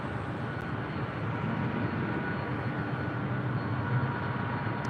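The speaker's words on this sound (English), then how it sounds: "This is the Alaska flight." An Alaska Airlines airplane at LAX gives off a steady, loud engine roar and rushing broadband noise that holds evenly throughout, sounding fairly close with no talk.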